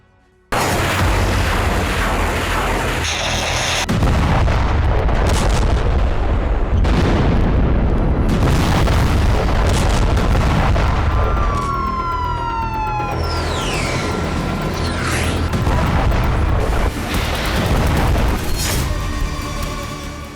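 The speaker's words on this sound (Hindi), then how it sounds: "जब नसरल्लाह का फरमान जारी होगा तो हिजबुल्लाह लड़ाके इस तरह विध्वंसक हमले करते हैं।" Explosions from Hezbollah attacks on Israel: heavy, continuous booming and rumbling in a loud war scene, with sirens rising and falling through the chaos.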